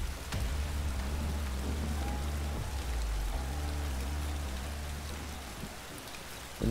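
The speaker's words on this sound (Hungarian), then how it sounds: "Esik az eső. Mondjuk nem tudom, miért zöld az eső." Steady rain hiss from the wet-weather track in the MXGP3 motocross video game on PC, continuous and fairly loud, layered over low motorbike engine drones.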